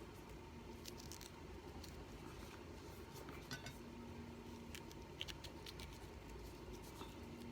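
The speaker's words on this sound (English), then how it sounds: "Get the seeds out with the spoon." A metal spoon scrapes seeds out of halved capsicums with soft, irregular scratching and light clicks against the flesh, quiet and close, with no talking.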